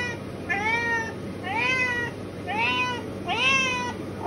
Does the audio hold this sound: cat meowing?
yes